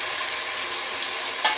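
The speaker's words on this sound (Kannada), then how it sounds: "ಈಗ ನಾನು ಟೊಮೆಟೊ ಕಟ್ ಮಾಡಿ ಇಟ್ಕೊಂಡಿದ್ನಲ್ಲ, ಆ ಟೊಮೆಟೊನ ನಾನು ಇದಕ್ಕೆ ಆ್ಯಡ್ ಮಾಡ್ಕೊಳ್ತಾ ಇದ್ದೀನಿ" Chopped tomatoes stirred in a frying pan while cooking tomato rice bath, a steady soft sizzling hiss with one brief scrape of the utensil near the end, close and alone.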